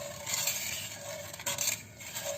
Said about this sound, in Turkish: şekerimi ilave ediyorum ve karıştırmaya başlıyorum